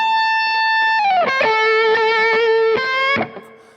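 Distorted electric guitar played through an amp and miked up close: a sustained bright note bends down into a held lower note with pulsing, wavering harmonics, then cuts off cleanly.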